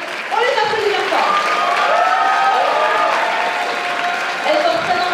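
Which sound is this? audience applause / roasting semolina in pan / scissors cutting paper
audience applause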